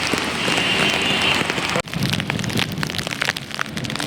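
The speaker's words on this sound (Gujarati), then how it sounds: "બહુ વરસાદ છે." Heavy rain pours down steadily in Junagadh, a dense, loud roar of drops hitting surfaces; it is briefly cut about halfway, then carries on with scattered splashes.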